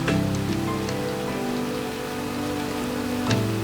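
Steady rain falls in a video game, an even hiss of drops on surfaces with a few brief sharper ticks, filling the short stretch without any talk.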